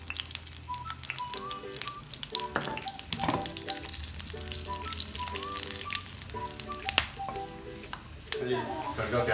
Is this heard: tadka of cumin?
yes